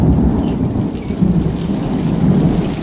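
Thunder rumbles low and heavy through a storm, under a constant close roar of rain, loud and unbroken for the whole stretch.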